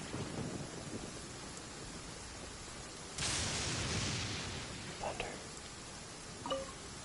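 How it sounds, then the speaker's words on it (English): Steady rain in Genshin Impact fills the scene with a continuous hiss, and a louder rush or rumble of thunder swells at about the three-second mark and then fades, followed by a few faint clicks. "Oh, that rain sounds so good."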